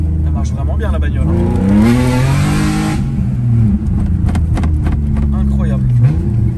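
A car engine revs and pulls hard under acceleration, its pitch rising and falling through the gears, loud and close from inside the cabin, with people talking over it.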